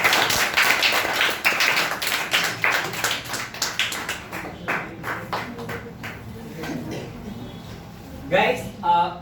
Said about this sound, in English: Clap for Sonu.